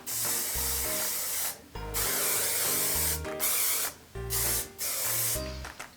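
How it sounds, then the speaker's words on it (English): Paul Mitchell anti-frizz medium-hold hairspray sprays in several close, loud hissing bursts of about a second each, separated by short pauses, with no voices. "Paul Mitchell brand, the, let's see, anti-frizz hairspray, medium hold."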